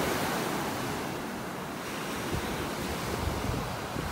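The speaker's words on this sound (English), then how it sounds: "yet we got these waves out here" Steady ocean surf washing onto a beach in North Naples, Florida, a continuous broadband roar with gentle swells, mixed with wind buffeting the microphone, no voices.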